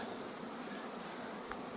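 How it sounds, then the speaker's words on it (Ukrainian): Honey bees fly out from their hives just after rain, near a sunflower field, making a constant dense buzzing drone with one brief louder pass, no talking. "Дощ закінчився і бджоли зразу ж почали обльот"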